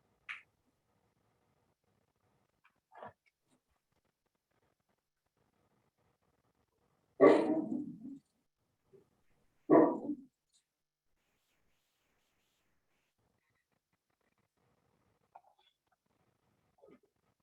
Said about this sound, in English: Somebody's got a dog.